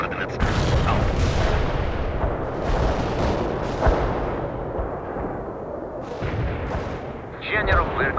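Heavy artillery booms and rumbling explosions in the World in Conflict video game, with a battle din continuing under radio-style voices talking.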